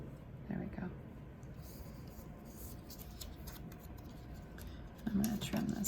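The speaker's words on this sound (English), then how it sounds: "I'm going to trim this little piece off." Scissors trimming a small piece of paper for a Stampin' Up card kit, with close, quiet snips and rustling paper and a brief louder cut near the end, while a person speaks softly.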